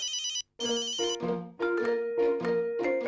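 A phone ringtone plays loudly, a bright electronic melody of repeating tones after a brief opening chirp, with no voices.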